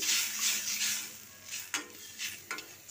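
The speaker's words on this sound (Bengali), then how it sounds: "এরপর আমি এক বাটি জল দিয়ে দিচ্ছি" A bowl of water poured into hot oil for a Rui fish curry sets off a bright hissing sizzle that swells and fades, with a few sharp clinks of utensil against pan.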